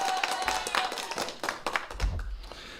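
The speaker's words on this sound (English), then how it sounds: "Let's have a round of applause for Paula." Scattered hand claps for Paula, a viewer, a few sharp taps spread irregularly over a couple of seconds, close and fairly quiet, more like a handful of people clapping than a full crowd.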